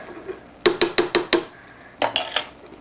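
Spoon scraping and clinking against a bowl while mixing ingredients into quinoa, five quick rhythmic knocks followed by a pause and a second short run of clinks, close and clear.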